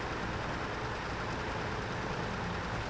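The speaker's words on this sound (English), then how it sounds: "As soon as we get here, we want to flick it into high just to keep those revs up." A truck engine in SnowRunner drones steadily at high revs in high gear, a dense, continuous low rumble that holds an even loudness throughout with no breaks.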